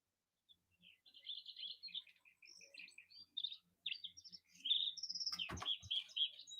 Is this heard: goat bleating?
no